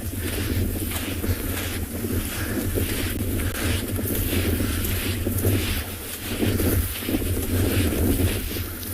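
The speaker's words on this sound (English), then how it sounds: "The wind has picked up. You can probably hear it on the mic." Wind buffeting a microphone outdoors on a morning game drive in South Africa, a constant loud low rumble with gusty surges and no break across the whole stretch.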